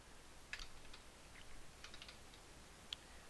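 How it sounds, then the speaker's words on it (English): Someone types an email address on a computer keyboard into a website contact form, a quiet scattering of soft keystrokes with a few sharper clicks, close by and alone. "Really quickly, I'll type in my email."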